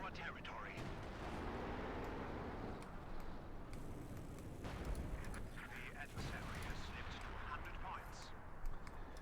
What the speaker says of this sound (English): We got artillery called in on the point, I think.